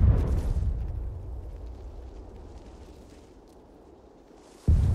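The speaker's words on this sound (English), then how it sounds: "Can you hear the cannon fire?" A deep cannon boom in the video game Sudden Strike 4 rumbles and slowly fades into a low echoing tail, then another blast cuts in abruptly at the end.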